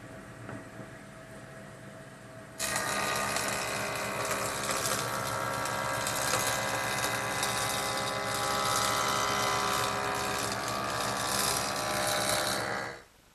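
A power saw blade cuts through a wooden board in one long pass, a loud dense whine starting abruptly and holding steady for about ten seconds before trailing off, with no talk over it.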